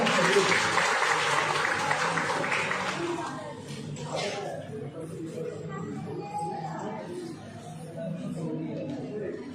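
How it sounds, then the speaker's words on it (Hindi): A crowd gives loud welcoming applause for a social worker introduced at a news channel event, dense clapping for about four seconds that thins into scattered claps and background chatter. "तो जोरदार ताली के साथ वेलकम करते हैं"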